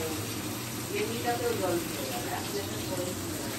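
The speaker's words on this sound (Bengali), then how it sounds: "মাছ ভাজা হচ্ছে" Fish fries in a pan in a home kitchen, giving a constant hissing, watery sizzle at close range, with a voice speaking faintly underneath.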